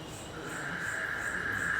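Steady chorus of frogs and insects on a tea plantation in the hills near Kandy, Sri Lanka, with a continuous high buzzing trill and faint pulsing chirps behind it, moderately distant, no talk.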